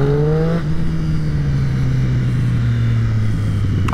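A Royal Enfield motorcycle engine runs close by with a steady, loud rumble, its pitch sliding gradually downward as it settles, with no talking over it.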